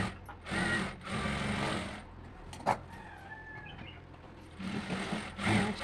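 A sewing machine stitching the side seam of a blouse sleeve whirs in two bursts, quieter in the middle stretch, fairly close and soft, with no talking.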